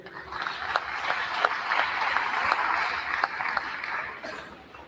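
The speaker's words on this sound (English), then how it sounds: "Let's give another round of applause here." An audience at a Navajo Nation presidential candidates forum at a university claps in a steady round of applause that swells and then tapers off, with a few louder individual claps standing out.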